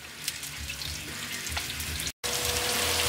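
Pieces of goat meat browning in a hot pan, a steady close sizzle and spatter running throughout with a brief dropout near the end.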